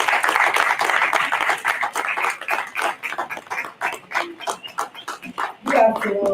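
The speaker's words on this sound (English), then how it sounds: "Let's welcome her with a round of applause." Audience applause welcoming a speaker at an annual general meeting and scientific conference, fairly close, steady clapping that thins into separate claps and fades, with a voice or murmur near the end.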